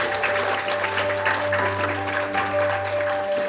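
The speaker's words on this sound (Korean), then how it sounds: "박수 보내주세요." An audience applauds steadily at a Rare Disease Day anniversary award ceremony, the clapping dense and sustained over a low hum, with no speech during the clapping.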